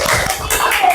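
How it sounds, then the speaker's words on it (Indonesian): Elementary school pupils clap in a classroom for the first group, a short burst of close, uneven hand claps from several children with some voices and movement mixed in. "beri tepuk tangan buat kelompok 1"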